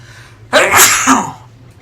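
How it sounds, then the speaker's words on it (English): A single loud, close sneeze bursting out suddenly, with no talking around it. "Didn't mean to sneeze in your ear."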